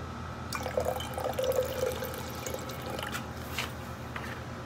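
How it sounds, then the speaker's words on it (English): Hydrochloric acid trickles from a container into a silver cell solution, a thin pouring stream with faint drips and a light glassy clink, close up in a quiet workspace. "Here goes the addition of the hydrochloric acid to see if we have any silver chloride in solution"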